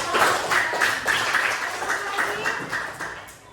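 Classroom applause during a coding and artificial intelligence lesson, a short burst of rhythmic, fairly close clapping from a group that fades toward the end.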